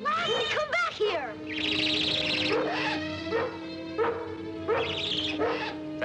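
A collie dog barks and yips in a 1963 outdoor farm scene, several sharp barks in bursts, with a bird call and speech-like vocal sounds mixed in.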